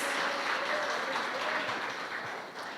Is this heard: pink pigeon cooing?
no